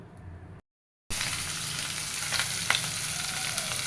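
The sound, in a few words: hot oil sizzling in a pan before frying spiced fish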